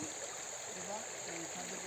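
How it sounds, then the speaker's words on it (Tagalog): A strong river current flows in a rural spot of Laak in Davao de Oro, giving a steady, broad rush of water with a faint voice underneath. "Ang lakas ng daloy ng tubig dito."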